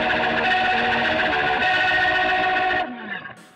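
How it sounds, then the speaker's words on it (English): Electric guitar played through a Boss MD200 modulation pedal on its rotary preset, a dense, sustained chordal tone with swirling modulation that cuts off sharply near the end, leaving a fading tail. "in the chorus it has a rotary pedal"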